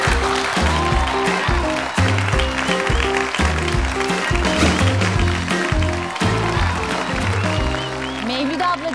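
A studio audience on a televised cooking competition applauds as a bride and her mother-in-law enter, with steady clapping running under loud, rhythmic, beat-driven music throughout.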